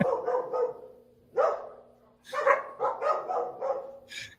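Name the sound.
dogs barking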